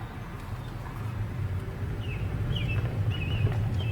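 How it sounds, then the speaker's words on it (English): A robin sings outdoors beside a road, its short whistled phrases faint and distant over a steady low rumble of wind or traffic, with a few brief notes scattered through the second half. "It's a robin singing."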